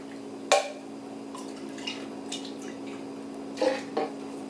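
Water is swirled inside a can to rinse out the last chili ingredients, heard as a few soft, brief sloshing splashes over a faint steady hum, close and quiet.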